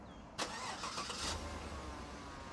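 A 2015 Chevy Tahoe engine cranks and catches via remote start, a sharp start followed by a steady low idle rumble, heard alone without talk.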